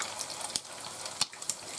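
Fish patties, blackened cod and salmon, fry quietly in a pan with a soft continuous sizzle broken by a few sharp pops and crackles.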